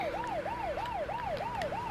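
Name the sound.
working vehicle siren in the Lego Marvel Superheroes video game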